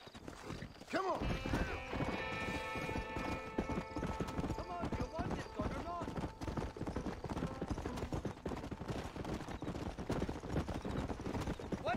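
Horse hooves clop in a steady, rhythmic trot in the video game Red Dead Redemption, close and continuous for the whole stretch, with a whinny, game music and character voices talking over them.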